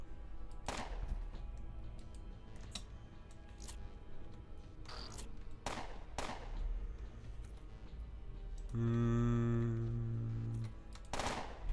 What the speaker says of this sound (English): then we're going to shoot them down